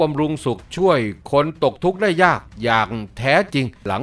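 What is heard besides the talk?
No distinct noise like a dog, phone or traffic.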